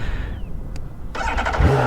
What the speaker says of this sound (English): Music of 6 cylinders.